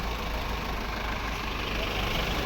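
Truck engine idling on a road trip between Nagapattinam and Karaikal, a steady, loud low rumble that holds without change, with no talking.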